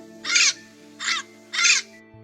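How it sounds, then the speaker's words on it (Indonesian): A bird in the Amazon forest in the morning gives three loud, harsh, crow-like caws, evenly spaced and close, against a quiet background. "burung-burung yang pagi itu tengah bernyanyi dengan merdu"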